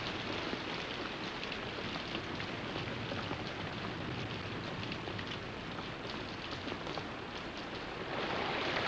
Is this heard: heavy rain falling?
yes